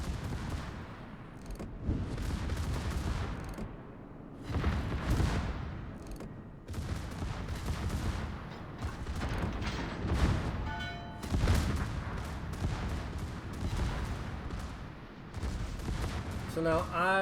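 Battleship naval guns fire in repeated heavy volleys during a World of Warships naval battle, booming bursts every couple of seconds with dense crackling between, while someone talks over the shooting.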